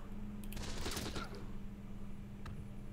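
A short, distant burst of gunfire in Close Combat: The Bloody First during an ambush on a BAR team, a quick rattle of shots around the first second and a lone faint shot later over a low steady hum.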